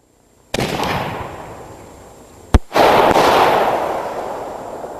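A multi-break firework shell goes off outdoors: a loud boom rolls into a long fading rumble, then a sharp crack and a second big boom that echoes and decays over several seconds.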